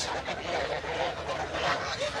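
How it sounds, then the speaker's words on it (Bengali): A crowded flock of geese honks continuously, many overlapping nasal calls close by with no pauses. "আপনারা দেখতে পাচ্ছেন এগুলো হচ্ছে রাজহাঁস"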